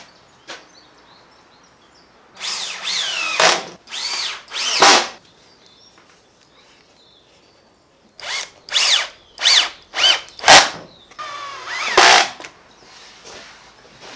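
Power drill driving screws into plywood while assembling a lumber rack, heard in two loud clusters of short whirring bursts, several quick runs each with brief pauses between, close by and alone.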